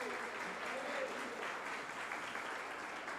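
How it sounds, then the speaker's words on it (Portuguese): A church congregation giving a round of applause during an evening service, steady and sustained clapping heard from a distance at a fairly low level. "Eu queria que vocês saudassem eles com uma salva de palmas."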